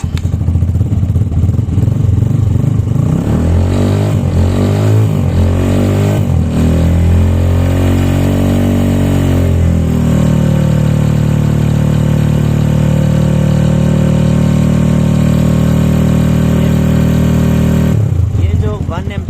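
Motorcycle with self-start running on a lithium battery: the starter cranks and the engine catches, then settles into a steady loud idle that runs close by for most of the clip before a brief change near the end, with speech alongside.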